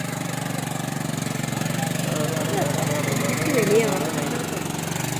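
A vehicle engine runs steadily at an adventure park, a continuous mid-pitched drone with voices talking over it.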